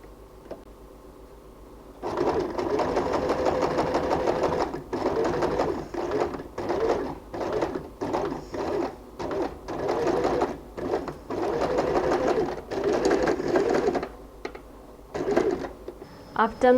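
A sewing machine whirs in steady runs of stitching, stopping and starting in short bursts, with brief pauses between.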